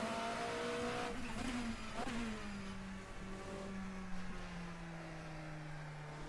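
A Nissan endurance race car from the 1990s laps a track in a racing video game, its engine revving loudly and close, with a couple of quick shifts before settling into a steady, slowly falling drone.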